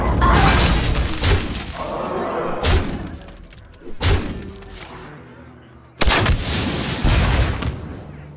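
Giant gun firing in Hearthstone: three loud, booming shots with crashing, shattering tails, spaced a couple of seconds apart among game effects.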